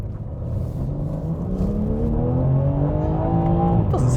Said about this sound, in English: We'll never get those engine notes as they were in the past, but it doesn't sound too bad.